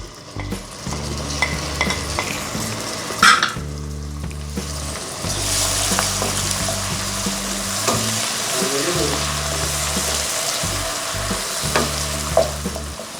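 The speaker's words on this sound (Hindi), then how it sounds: "तेल गर्म होने के बाद हम अदरक लहसुन पेस्ट 2 खाने का चम्मच डाल देंगे।" Ginger garlic paste sizzles in hot oil in a wok as it is stirred, a steady, loud frying hiss with scraping strokes and a low background hum.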